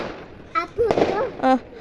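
Firecrackers pop a few times in quick succession at a birthday celebration, with voices talking over and between the bursts.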